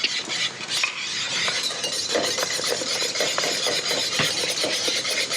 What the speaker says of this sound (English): And then pop it back on the heat and then start whisking.